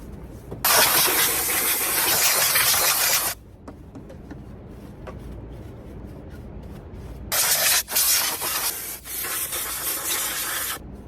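Silicone spray hisses in two loud bursts from an aerosol can during oil and filter maintenance on an Onan generator, a long blast of about three seconds, then a shorter one, with quiet rustling in between.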